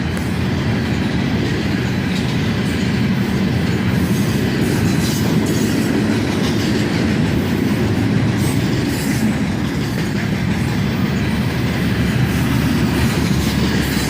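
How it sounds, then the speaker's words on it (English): A CSX manifest freight train led by a long string of slab cars rumbles steadily past at close range, with a continuous dense roar and rhythmic wheel clickety-clack throughout. "This manifest starts off with a big cut of slab cars."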